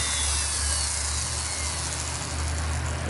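Power carving tool fitted with a flame bit cutting into a pine knot while shaping a wood spirit face, a steady high-pitched whine with a continuous grinding hiss and a low hum underneath, constant and close throughout.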